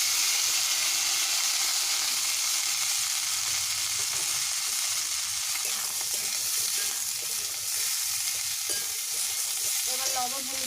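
Potatoes and tomatoes fry with nigella seeds in hot oil, giving a steady, loud, close sizzle that runs unbroken throughout while food is stirred, with no voices.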